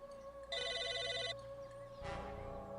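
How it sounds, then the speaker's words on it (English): A phone ringing in the Psychonauts video game: an electronic trilling ring bursts for under a second, then fades as a different noisy game sound rises, with no talk. "Like a phone ringing."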